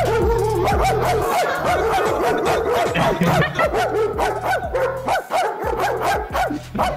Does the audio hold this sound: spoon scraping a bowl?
no